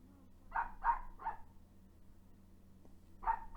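A dog barking indoors, three quick barks in a row, a pause, then two more, fairly faint over a quiet room hum.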